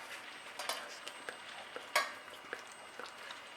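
Chicken pieces frying in a pot for Jamaican brown stew chicken, with a steady soft sizzle and scattered scraping clicks as the pieces are stirred and turned, one sharper knock of a utensil midway.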